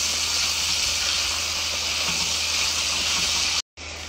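Serenaded meat fries in a hot pan with tomato to follow, giving a steady, close, dense sizzling hiss that cuts out abruptly near the end, with no voice over it.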